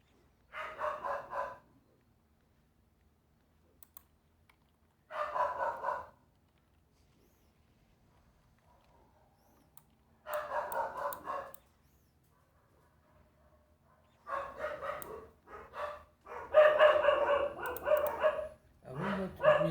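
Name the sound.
dogs barking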